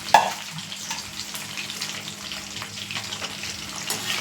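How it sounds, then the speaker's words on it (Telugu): Peanut oil heating and foaming in a pan gives off a steady, soft frying hiss with faint crackles, continuous throughout and fairly close, with no voices. "పల్లీ నూనె అలా నురగొస్తుందండి, చూసారా"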